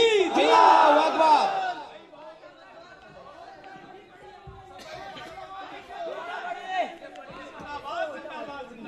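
A large crowd at a naat gathering roars a chanted religious slogan in unison, loud and dense at first, then trailing off into scattered voices and chatter.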